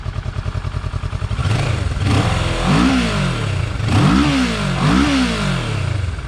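Engine of a 2016 Kawasaki Ninja 650 motorcycle, first idling with a quick pulsing rhythm, then given throttle in three rising revs that swell loud and close before dropping back each time, with no voices.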